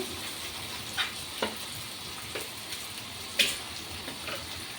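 Onions frying in a pan with salt and chili powder added, a soft steady sizzle broken by several brief clinks and scrapes of stirring.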